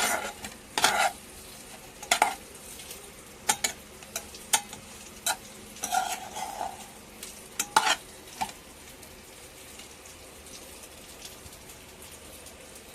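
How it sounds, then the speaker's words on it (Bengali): Slices of pointed gourd (potol) coated with turmeric fry in a pan, giving a low sizzle broken by sharp stirring clatters and scrapes at irregular moments, close and fairly quiet. "পটলগুলো প্রায় ভাজা হয়ে এসেছে, লাল লাল হয়ে গেছে।"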